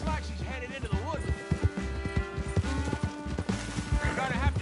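Horse hooves clip-clop in a video game as the rider pursues a fugitive toward the woods, a steady trotting rhythm mixed with a whinny and a voice talking over game music.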